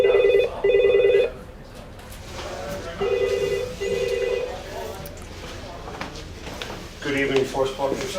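A telephone at a hotel reception desk rings in short electronic trills, twice near the start and again later, while people talk over and between the rings.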